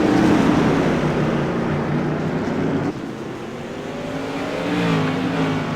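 Tour Modified race cars racing on the Charlotte Motor Speedway Legends Oval, a continuous loud engine roar that dips slightly midway and then swells again as cars pass, with no voices.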